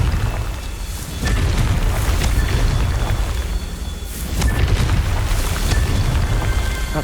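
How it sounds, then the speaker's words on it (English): Confringo blasting spell going off in Hogwarts Legacy, a deep rumbling boom that swells twice, around one second and again near four seconds, with a loud, heavy low-end roar between. "Confringo!"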